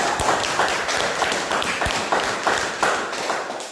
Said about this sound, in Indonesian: Jadi tepuk tangan untuk kelompok 3.